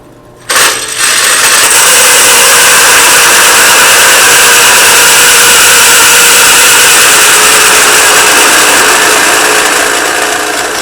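A loud, continuous high-pitched grinding whine of a carbide hole saw with cutting fluid boring through stainless steel, starting abruptly and running steadily without letup.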